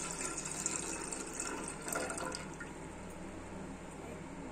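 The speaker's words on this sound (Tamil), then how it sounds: "ஒரு பெரிய பவுல் எடுத்துட்டோம் அதுல நம்ம ஃபில்டர் பண்ண அருகம்புல் எசன்ஸ் விட்டுக்கலாம்" Filtered Bermuda grass essence pours into a large bowl for soup, a soft continuous liquid trickle and splash heard faintly and steadily throughout.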